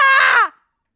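A telephone ringing in the horror video game Dreamless, one loud, close electronic ring tone about half a second long that cuts off abruptly into silence.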